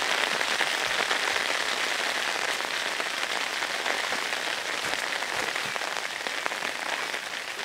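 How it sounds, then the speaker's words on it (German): Heavy rain pours down outdoors in a dense, steady hiss of drops striking surfaces, loud and unbroken, with no talking. "Und jetzt wird der Regen stärker."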